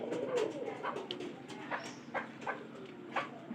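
Pigeons in a loft coo steadily and repeatedly at close range, with a few faint higher chirps scattered over the soft, continuous murmur.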